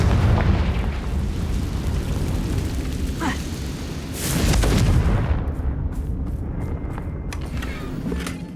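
A Confringo blast spell from Hogwarts Legacy explodes as a deep, rumbling burst. It swells at the middle, then trails off into scattered crackles and debris sounds, and there is no talk.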